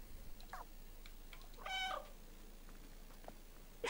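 A cat meows once in the video game Stray, a short tonal cry standing out briefly over quiet background, with faint soft taps around it.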